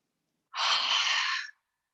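A single deep, breathy exhale during a hatha yoga class, a close, loud rush of air lasting about a second and heard alone in silence.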